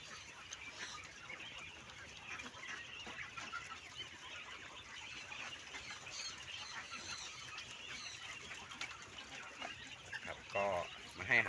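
A flock of farmyard chickens, a few hens to each rooster, eating after feeding, with steady soft clucking and pecking throughout, fairly quiet and close.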